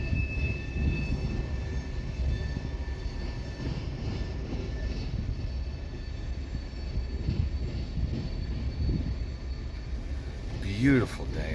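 A Union Pacific train rolling along the Transcon main line on a warm day, a steady low rumble and wheel noise throughout with a brief squeal near the end, heard from trackside at moderate distance.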